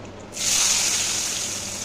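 Chopped onion drops into a hot frying pan just used for frying eggs with turmeric, setting off a sudden loud, steady sizzle that holds after a brief quiet start.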